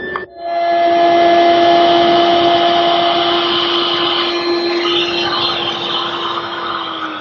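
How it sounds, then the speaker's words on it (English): A router or similar power tool cuts grooves in wooden drawer pieces for a French side table, giving a loud, steady high-pitched whine that holds for several seconds after a brief start. "Now we need grooves in all four pieces to receive the bottom."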